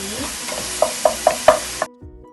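Garlic and onions fry in oil for Pinoy-style spaghetti sauce, a steady close sizzle broken by four or five sharp utensil scrapes against the pan before the sound suddenly drops to near quiet.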